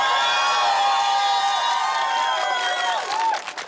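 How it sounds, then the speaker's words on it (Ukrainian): A crowd at outdoor karaoke on a town square cheers for contestant Nastya, with continuous shouting and whooping voices that fade toward the end. "Ваші оплески Насті."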